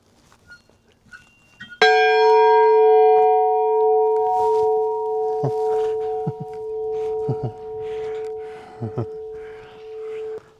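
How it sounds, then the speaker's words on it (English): Chapel bell from 1906 at the Fort Ross historic landmark on the California coast, struck once and ringing with a long, clear, sustained hum that slowly fades, while a person talks softly over the decay. "Here's the bell here."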